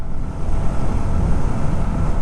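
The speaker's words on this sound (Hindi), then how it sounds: "स्कूटर जो हमेशा ऐसा एक अजीब सा वियर्ड साउंड करता है जब मैं इसको हार्ड थ्रॉटल करता हूँ" A TVS Jupiter 110 scooter engine under hard throttle makes a strained, rough droning roar, mixed with heavy wind buffeting over a close microphone and sustained without a break.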